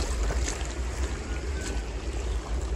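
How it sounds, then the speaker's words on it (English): River water rushes steadily as a hiker wades across a secondary river on the Pacific Crest Trail. The broad, constant flow is close and loud, with splashing from the crossing. "Now a secondary river."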